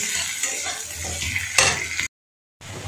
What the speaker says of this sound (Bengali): এখন পেঁয়াজটা ভেজে নেব